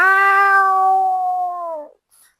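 A human voice imitates a cat meowing: one long, loud, close meow that holds steady and then drops off, followed by a faint brief squeak.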